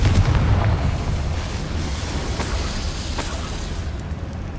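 A Confringo spell in the Hogwarts Legacy video game sets off a deep, rumbling explosion with a heavy low boom at the start, then a dense fading roar and some crackling.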